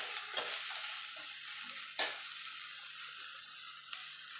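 A tomato goes into ginger-garlic paste frying in a pan, giving a steady soft sizzle with a few brief stirring scrapes and clinks; faint and close, no talking.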